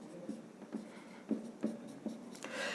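Chalk or marker writing a quadratic-equation question on a classroom board, with a series of short scratchy strokes and taps at an uneven rhythm, close and fairly quiet, no talking.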